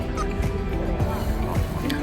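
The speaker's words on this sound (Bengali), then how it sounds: "একদম লেকের মাঝখানে এই পাখিগুলো বসে আছে, কোনো ভয় ভীত কিচ্ছু নেই এদের" Waterbirds resembling geese or ducks on a lake in Italy give a few honking calls over a loud, steady wash of wind or water noise, fairly close, with no talk.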